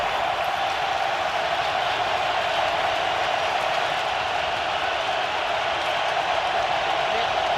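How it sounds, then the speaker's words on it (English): Dense, steady roar of a large stadium crowd at a Detroit Lions NFL game, a continuous wash of noise with no breaks, while a voice talks over it. "What if the crowd noise becomes an issue? And right now it is for the Kansas City offense."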